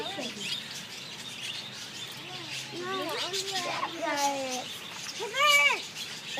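Birds chirp and call repeatedly at a zoo during feeding time, bright tweets and rising whistles coming close, mixed with children talking and playing nearby.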